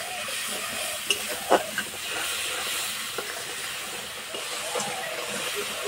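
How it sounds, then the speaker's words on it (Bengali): A mixed spice paste goes into hot oil while cooking a pointed gourd (potol) dish, producing a steady hissing sizzle with a few sharp clinks and stirring scrapes, close and continuous. "আমি যে মশলাটা গুলে রেখেছি সেটা দিয়ে দেবো।"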